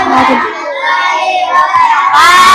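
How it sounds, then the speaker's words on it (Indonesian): Schoolchildren in a classroom clap briefly while excited young voices shout and cheer over the clapping, loud and close. "Ya, tepuk tangan untuk kita semua."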